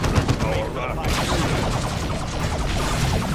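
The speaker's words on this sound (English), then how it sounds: "the effect of the rocket launcher was quite dramatic" Rocket launcher fire and explosions in Warhammer 40k: Dawn of War II, a loud dense barrage of blasts and gunfire crackling continuously with game voices mixed in.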